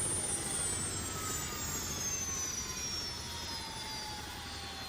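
The turbine engine of a simulated Bo105 helicopter in X-Plane 12 winds down during shutdown, a steady loud roar with whining tones that slowly fall in pitch, heard alone with no voices.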